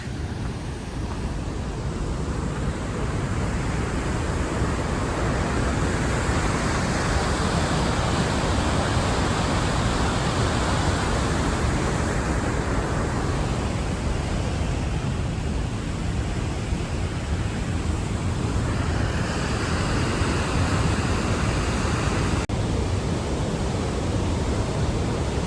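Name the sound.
waterfall at Mistaya Canyon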